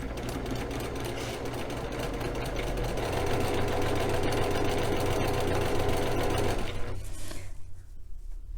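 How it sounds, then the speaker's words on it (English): Sewing machine running a continuous quarter-inch seam joining two fabric strips for a Valentine throw pillow, a steady close hum and rapid needle chatter that cuts off near the end. "we'll go ahead and just sew our 1/4 inch seam all the way down"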